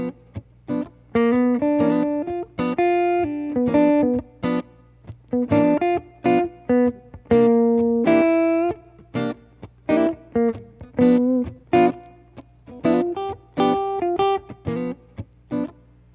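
A distorted electric guitar plays a melodic solo line of sustained notes and short phrases emphasizing guide tones on the second and third strings, steady and prominent with no talking.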